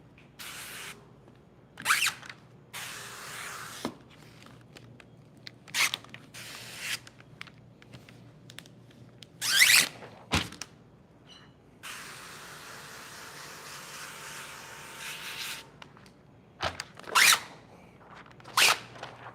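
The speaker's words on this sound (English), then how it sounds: "It's just the film coming off the backer." Protective film peels off its backing during paint protection film work on a Tesla Model Y, in bursts of loud screechy, hissing rips, separated by quiet pauses, close up and harsh, with no talking.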